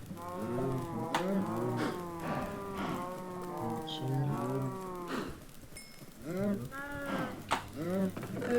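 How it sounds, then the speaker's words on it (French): Blocky cattle in a Minecraft survival world moo repeatedly in long, drawn-out calls, several overlapping and close, with a faint rain-like hiss underneath and brief pauses between groups of moos. "Au moins les vaches elles se reconnaissent bien."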